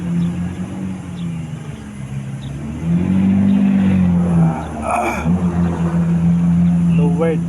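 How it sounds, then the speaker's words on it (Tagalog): A sports car's engine revs hard at a street scene with lowered vehicles and tricycles nearby, the loud surges rising and falling amid traffic rumble while people talk faintly in the background. "Ay, galit na galit yung sports car."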